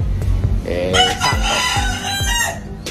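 A fighting rooster crows loudly and close by, its call rising and falling over a couple of seconds, with low thumps and faint background noise.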